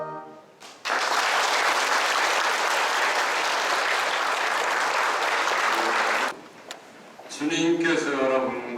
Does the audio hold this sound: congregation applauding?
yes